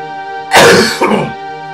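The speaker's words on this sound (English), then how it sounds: "my cough from some of my After Dark videos is still persisting" A single loud, harsh cough or throat clear from a man with a persistent cough, close to the mic, in two quick bursts over a steady background hum.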